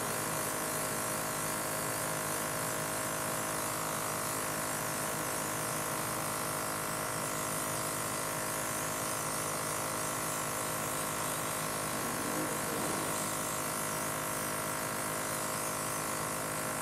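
Temptu airbrush spraying liquid foundation onto a face, a steady close hiss with a motor whine that runs unbroken for the whole stretch, with no talking.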